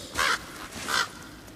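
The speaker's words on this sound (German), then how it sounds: "Guck mal, das sind Raben." Two harsh raven caws in the God of War video game, each a short rasping call about half a second apart, fairly close and clear over a quiet ambient background.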